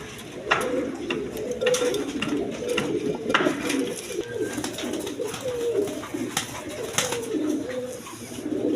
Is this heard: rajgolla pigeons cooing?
yes